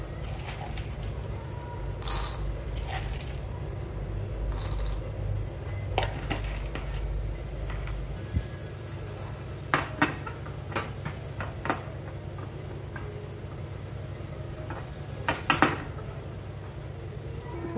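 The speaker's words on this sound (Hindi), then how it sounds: "इसमें मैं मूंगफली रोस्ट करूँगी।" Peanuts roasting in a frying pan: soft scattered clicks and small metallic taps as the nuts shift and are stirred, over a steady low hum, with a few sharper ticks near the end.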